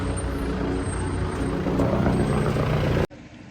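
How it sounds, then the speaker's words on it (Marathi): A helicopter passes overhead above a jammed mountain road near Sonprayag on the Kedarnath route, making a loud, continuous rotor and engine rumble that cuts off abruptly after about three seconds. "वर हेलिकॉप्टर बघा"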